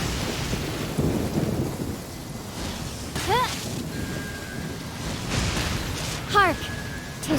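Thunder rumbles low and heavy over falling rain in the video game Genshin Impact, a deep continuous roll with occasional voice lines from characters rising briefly above the storm.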